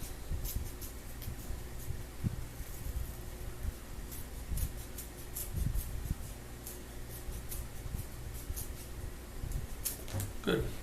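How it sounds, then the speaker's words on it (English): Scissors cut off a marked cut-out piece with a run of soft, irregular snips and rustles at close range, with a little faint handling noise and no clear talk. "Let's go ahead and cut that off now."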